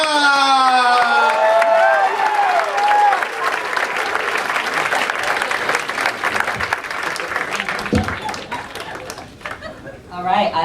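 An audience at a comedy club in a stand-up show breaks into loud sustained applause with cheering and whoops. The clapping stays dense for several seconds, then thins and tapers off, with voices briefly audible near the end.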